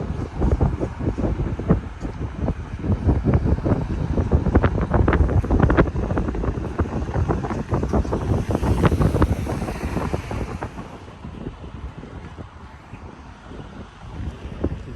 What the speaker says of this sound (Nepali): शीतल हावा चलिरहेछ